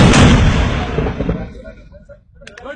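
Army mortar firing on a border position, one loud near blast that fills the start and then decays into a rolling echo, with faint voices near the end.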